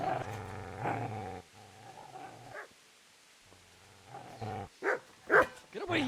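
A dog in the video game Kingdom Come Deliverance gives low sustained growls and then several sharp, loud barks near the listener.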